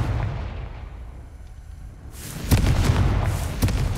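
A Confringo fire spell from the Hogwarts Legacy video game goes off, a sudden booming blast after two quiet seconds, with a second, smaller burst following about a second later.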